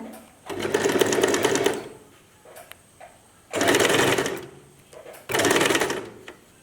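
An Usha electric sewing machine stitches in three loud, even whirring runs of one to two seconds each, separated by short pauses with faint clicks.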